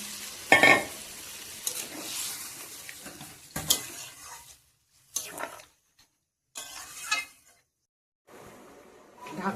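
Hot water goes into a sizzling pan of doi posto prawn curry, making loud bursts of splashing and hissing with stirring. The bursts come in several separate spells, broken by near-silent gaps.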